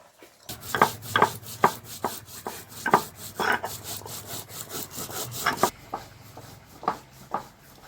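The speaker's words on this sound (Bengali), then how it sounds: "এখন আমি এটা শিলে বেটে নিচ্ছি" Fried coriander, cumin and bay leaf are ground on a stone slab, producing close, rhythmic scraping and grinding strokes in quick repeated bursts that slow toward the end, with no talking.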